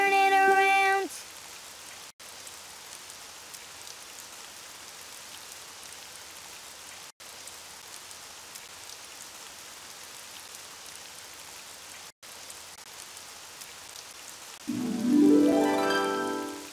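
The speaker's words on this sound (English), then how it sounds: "Oh, it's raining outside." Steady, soft rain patter in the kids' game Daniel Tiger's Neighborhood Spin and Sing continues throughout, with a brief tonal chime at the start and a louder burst of sound near the end.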